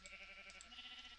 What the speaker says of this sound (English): There was a sheep. There's the sheep